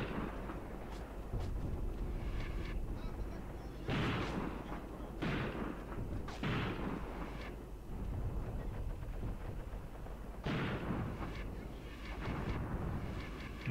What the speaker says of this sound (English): Mortars are shelling over there.